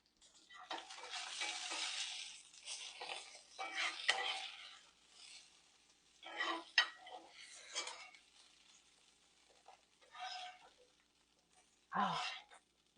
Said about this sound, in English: it's about time to get these veggies out of the pan